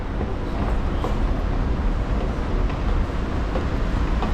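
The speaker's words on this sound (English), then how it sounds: "The metro's coming." A metro train pulls into Rokin station on the Amsterdam underground, a loud, steady rumble of wheels and motors filling the platform with no pause.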